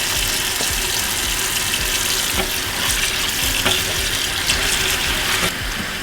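Hot water pours steadily into a bowl to soak pho noodles, a continuous close splashing stream with no talking.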